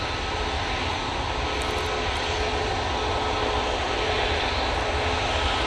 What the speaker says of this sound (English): Next out will be this EasyJet off to Tivat.